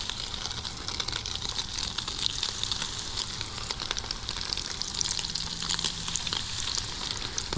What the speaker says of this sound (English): So I always fry my fish out here on this single burner system.